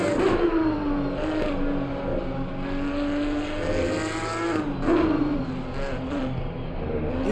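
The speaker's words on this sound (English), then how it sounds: "Let's have a listen to his engine here," In the Assetto Corsa Competizione Porsche Supercup race at Barcelona, a Porsche race car engine wails continuously, its pitch climbing and dropping with throttle and shifts, loud and close.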